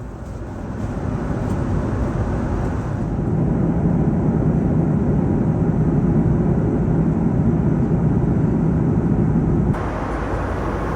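Cabin noise on a Qantas business class flight over Western Australia is a steady, loud, broadband jet rumble and hiss that holds throughout, with a slight rise after a few seconds and a small drop near the end.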